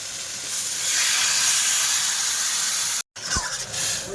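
Water hits a hot pan of crab curry with greens, bursting into a loud, sustained hiss of steam, then a brief cut and quieter bubbling with a clatter.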